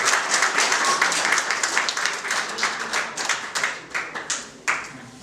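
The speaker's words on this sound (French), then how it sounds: "je vous demande d'applaudir très fort les jeunes filles qui vont arriver tout à l'heure" An audience claps at the Miss Belle Kabylie 2017 beauty pageant, starting as dense applause and thinning into separate, distinct hand claps toward the end.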